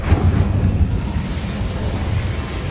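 The Incendio fire spell is cast in a Harry Potter video game, a loud, dense roaring burst with a deep rumbling body that stays sustained and fairly even throughout.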